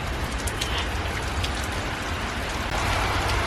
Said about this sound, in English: It is super good to be getting rain on the front yard garden.